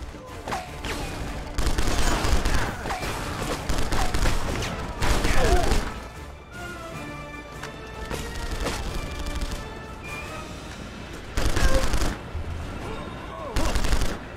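Gunfire in The Punisher video game, with dense bursts and rattling volleys coming in waves and a few heavy crashes, loud and up close, while a voice talks at times.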